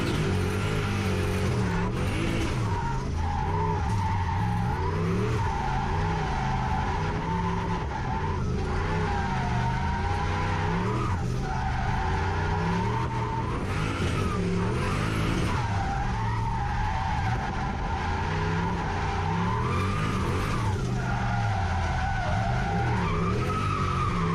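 Tyres squeal and skid continuously as a 1UZ V8 turbo Lexus LS400 on budget road tyres drifts around a track, the engine droning loudly underneath the long wavering screech.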